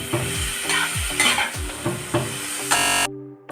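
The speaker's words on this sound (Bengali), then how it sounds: "এবার এটা আমি ভালোভাবে কিন্তু নাড়াচাড়া করবো।" Grated beetroot stirred and fried in oil in a pan, with repeated scraping strokes of a spatula over a continuous sizzle. The strokes come at an uneven rhythm, close up, before a brief louder burst and an abrupt stop.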